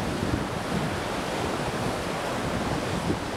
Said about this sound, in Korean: 멀리서부터 길을 찾던 파도가 좁은 골짜기로 힘을 모아 몰려온다